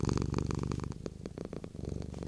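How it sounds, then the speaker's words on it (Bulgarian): A cat purrs steadily while kneading, close and alone, with a continuous low rumbling rhythm of breaths and no voices. "Тя в момента меси баница ли, бисквити ли меси и почва да мърка в същото време"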